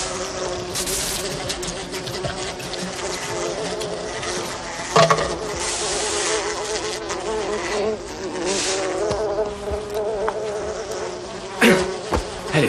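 Bees swarm in a dense, steady buzz while being smoked out of their hive, the droning insect hum filling the scene continuously with a few louder bumps and rustles, no clear talk over it.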